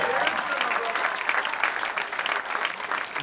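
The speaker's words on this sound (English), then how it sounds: "if you're clapping your hands and if you're shouting out yes" An outdoor crowd at a Black Lives Matter rally in Lewisburg, Pennsylvania claps and shouts in a dense, steady wash of applause that holds at full strength throughout, with cheers mixed into the clapping.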